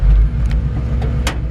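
Exhaust of a 1950 Chevrolet 3100 pickup truck, a steady low rumble close by while the truck backs up, with a few brief higher bursts over the continuous drone.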